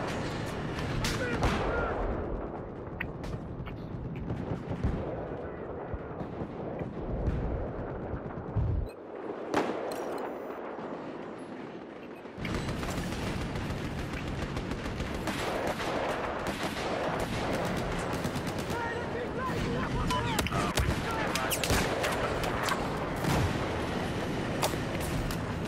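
Sniper rifle shots in Battlefield 4, a few loud booming reports with sharp onsets, heard amid game noise and background chatter.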